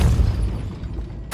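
A Depulso force-push spell blast in Hogwarts Legacy, a single loud deep boom that decays quickly, followed by a sharp crack right at the end.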